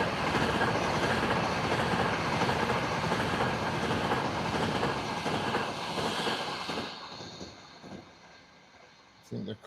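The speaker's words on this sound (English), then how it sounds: "The freight train is due very soon." Freight train passing in a train game, a loud continuous rolling rumble with rail clatter that fades toward the end.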